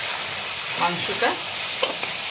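Chicken mince and potatoes fry together in a pan with a constant hiss of sizzling, broken by a few soft scraping stirs and clinks close by.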